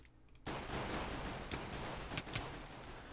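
P250 handgun shots in Minestrike, a Minecraft shooter, a sudden loud flurry of overlapping gunfire that runs on steadily after a short quiet start.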